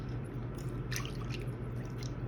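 Milk pours into butter pecan cake mix in a bowl, a soft, close, wet splashing and dripping over a couple of seconds against a low background hum, with no talking.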